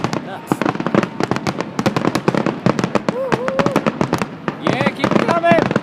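Grand finale of a 2014 fireworks show in Mentor, Ohio: a dense, rapid barrage of sharp bangs and crackles pops continuously, loud and close, with excited voices talking and cheering throughout.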